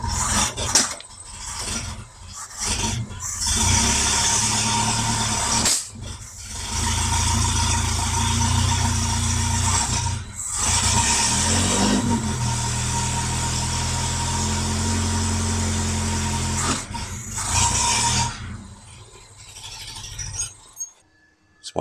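A 1971 Toyota Celica TA22 engine runs steadily close by for most of the stretch, a rough, loud idle with brief dips and pauses before it settles and fades near the end.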